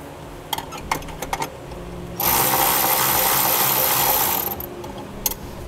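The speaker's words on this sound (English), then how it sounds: "We'll go ahead and remove that with a 10 millimeter socket." Steady mechanical clicking of a ratchet with a 10 mm socket runs for about two seconds as a bolt is backed out of the body of a 2018 Honda Odyssey. Single clicks and light taps come before and after.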